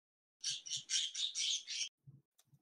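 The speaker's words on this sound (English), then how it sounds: "Somebody's bird is in a rage" A pet bird squawking in a rage, a run of harsh, loud, closely spaced screeches followed by a few faint low sounds.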